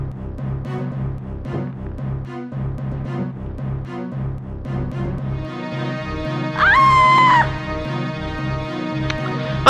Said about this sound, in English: I don't know how many times I heard Matlock scream now